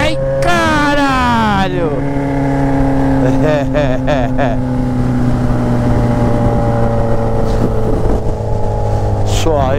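A Yamaha XJ6 motorcycle with a 3-inch straight-pipe Atalla exhaust, loud and close, sweeping through sharp rising and falling revs before settling into a rough, heavy idle with blips, while someone shouts an exclamation over it.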